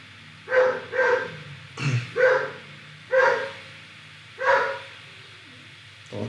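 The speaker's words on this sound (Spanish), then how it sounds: "Estamos esperando que el perro termine de ladrar." A dog barks in a spaced series of about six sharp, fairly loud barks, heard from nearby across a quiet indoor background.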